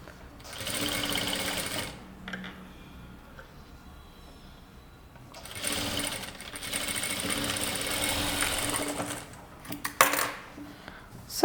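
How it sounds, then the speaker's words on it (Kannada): A sewing machine runs in two bursts, stitching a folded fabric cross piece onto a garment neckline, with a loud steady mechanical whir, a pause of soft handling noise between bursts, and a small clink near the end. "ಸೊ ಈ ಥರ ಸ್ಟಿಚ್ ಮಾಡಬೇಕು."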